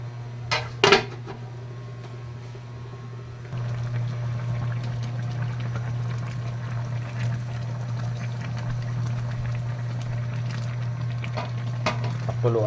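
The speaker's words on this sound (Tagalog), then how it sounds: "Nilagyan ko na ng tubig." Water pours into a cooking pot of salmon sinigang seasoned with salt. A steady, moderate stream runs at close range after a couple of short clinks at the start. No voices are heard.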